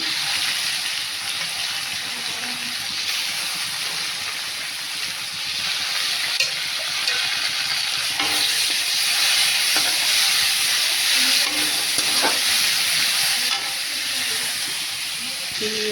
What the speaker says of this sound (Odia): ରସୁଣ ପକେଇଦେଲି ଏବେ ପିଆଜ ପକେଇ ଦେଉଛି